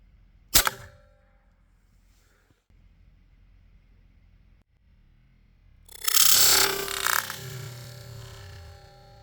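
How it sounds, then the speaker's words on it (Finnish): An air rifle fitted with a 3D-printed suppressor fires: one sharp, short crack early on, then a louder, noisier burst a few seconds later, in an otherwise quiet setting. "Mutta kokeillaan vielä ampua pari kertaa."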